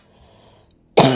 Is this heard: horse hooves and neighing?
no